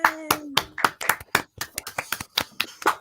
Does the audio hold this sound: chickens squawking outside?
no